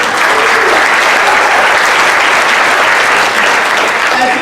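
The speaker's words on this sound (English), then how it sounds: "I appreciate that applause" A church audience at a Father's Day service breaks into loud, dense applause that holds steady and close for the whole stretch, with no voices over it.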